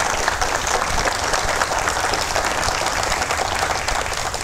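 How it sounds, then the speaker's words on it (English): Steady, dense applause from a crowd at an outdoor fountain dedication at a riverfront museum, continuous and even in loudness throughout. "Let's give Moni Gibbs another hand of applause"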